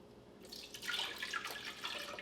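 Almond milk pours into a container while a protein whipped-topping recipe is prepared, a faint, soft trickling splash starting about halfway through and running steadily to the end.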